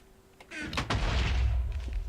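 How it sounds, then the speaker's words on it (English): Creepers explode in Minecraft: a sharp blast at the start, then a long rumbling boom that trails off, loud and close with no talking. "creepers exploding"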